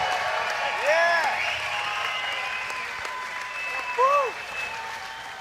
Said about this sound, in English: Listen to the crowd go wild here.